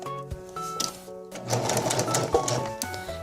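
A sewing machine stitches a rolled hem on tulle with a rolled hem presser foot, giving a close, fast, rhythmic mechanical whir with short stops and restarts and no talking.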